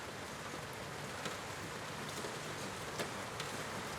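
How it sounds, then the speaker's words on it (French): Rain falls drop by drop onto a window, a soft, steady patter of near droplets with occasional slightly louder taps. "la pluie est déjà là"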